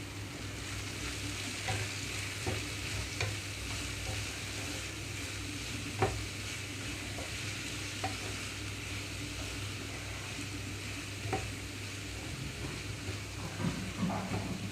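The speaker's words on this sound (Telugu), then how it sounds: "పాలకూర కూడా మూత పెట్టకుండా వేయించుకుంటున్నానండి" Spinach frying in an uncovered pan hisses in a steady, even sizzle, with occasional sharp taps and scrapes as it is stirred, quiet and close and with no talking.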